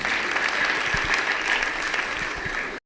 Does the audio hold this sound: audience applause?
yes